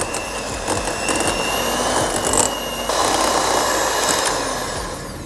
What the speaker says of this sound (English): We make sure we scrape the sides while we are mixing our butter and sugar.